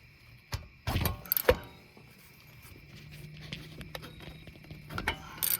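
Wrench work on a brake caliper bolt of a 2015 Ford Fiesta: sharp metallic clanks and knocks at the start, a quieter low ratcheting strain in the middle, then more clanks, close by with no talk.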